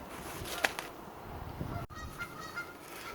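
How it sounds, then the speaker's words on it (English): Geese honk faintly in the distance on a lake, a few scattered calls over quiet outdoor background noise. "Sorry about the geese in the background on the lake."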